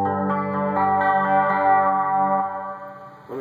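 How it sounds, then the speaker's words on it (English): Electric guitar picking a 1-3-5 arpeggio pattern through an echo and reverb effect, sustained chord tones blooming and repeating for about two and a half seconds before fading, with a brief new note at the end. "Let me turn my echo off so you can hear it better."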